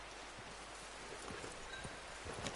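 Soft, steady horse hoofbeats in a video game clip-clop at a walking pace under a constant broadband hiss, faint and fairly distant.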